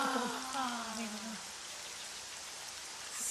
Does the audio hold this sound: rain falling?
yes